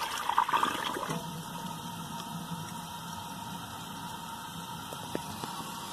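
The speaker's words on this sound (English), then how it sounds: "Let's see how it does on a second flush." A 2001 Vitromex Marathon toilet flushing with a washcloth in the bowl, a sharp initial rush of water followed by a steady, moderate gurgling refill that continues to the end, close by.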